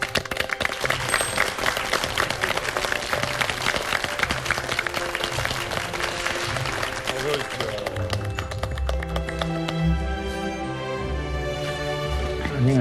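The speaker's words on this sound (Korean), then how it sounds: "여러분 박수로 맞이해 주십시오." Studio audience at a Korean television variety show breaking into applause to welcome guests, loud, dense clapping mixed with music and voices, thinning toward the end as a heavier rhythmic beat takes over.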